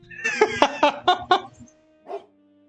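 Bloodhound Colby barks happily in the game Stillwater, a quick burst of four or five close, bright barks in rhythm, then one softer yip after a short pause.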